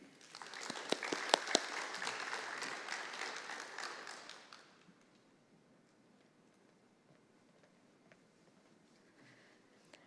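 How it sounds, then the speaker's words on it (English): An audience at a high school FFA banquet claps in a burst of applause that lasts about four seconds, then quickly fades to quiet room tone. "Please join me in giving these individuals one more round of applause."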